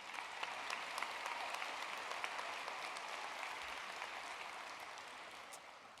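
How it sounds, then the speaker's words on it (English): A graduation audience at a 2021 high school ceremony gives a round of applause, a steady wash of many hands clapping at moderate distance that slowly fades toward the end. "So I think that deserves a round of applause,"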